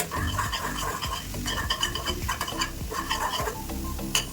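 Egg bhurji being stirred in a pan, a busy run of scraping and clinking utensil strokes over a steady sizzle, close and fairly loud, with no speech.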